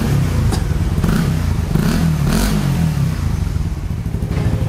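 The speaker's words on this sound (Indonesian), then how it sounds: "video sharing gue dari knalpot lokal smoke muffler dengan suaranya ditambahin DB killer di ujungnya dan DB killer di leher" Motorcycle revving through a local Smoke Muffler aftermarket exhaust fitted with dB killers at the tip and the header, giving a steady loud rumble with a few throttle blips, close up and with no talk.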